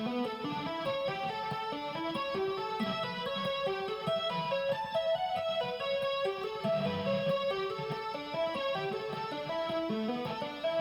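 Quicker two-handed tapping on an electric guitar, a dense continuous stream of bright notes running up and down without pause.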